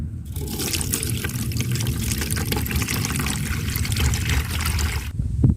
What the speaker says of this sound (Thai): เราก็มากรองเอา น้ำขี้เท่าเลยค่ะ เอาแต่น้ำใสๆนะคะ